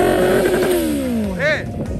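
An XJ Turbo motorcycle at a racing event, its engine revving and then falling away in a long descending whine, loud and close, with another vehicle's brief rising note near the end and voices in the background.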